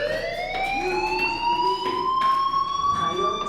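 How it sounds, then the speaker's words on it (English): Fire alarm ringing in the video game Life is Strange, a steady electronic tone with a slowly rising pitch, loud and continuous throughout with no pauses. "do you hear that fire alarm?"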